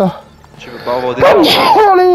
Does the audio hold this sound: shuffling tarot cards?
no